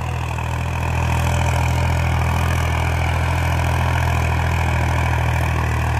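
A tractor engine labours in medium fourth gear in loose sand with its tires slipping, a loud, steady low drone throughout.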